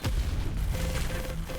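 Booming blast from an explosive weapon in a competitive online shooter match, a loud low thud with rumbling tail amid ongoing gunfire and game effects.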